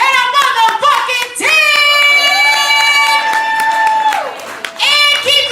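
A poetry slam audience claps and cheers loudly, with sustained whoops and shouts riding over dense applause, a brief dip, then another surge of cheering, close and full.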